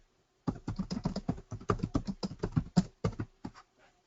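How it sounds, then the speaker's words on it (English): Rapid clattering keystrokes on a computer keyboard, close and fairly loud, in an uneven run of quick taps with brief pauses, heard alone. "I don't know what he's typing, but he's typing."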